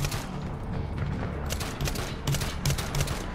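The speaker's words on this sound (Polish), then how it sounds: "No strzelam w beczuszkę wybuchającą i nic nie działa." Rapid in-game gunfire from the 2010 military shooter Medal of Honor, a dense sustained fusillade of automatic weapon shots with bursts of louder cracks over a constant battle din.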